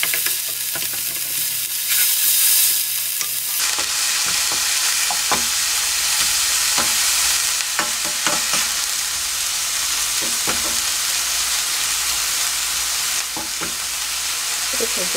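Ground meat stir-frying in a pan for mapo tofu, heard as a bright, constant sizzle broken by repeated scraping and clacking stirs, loud and close with no talking.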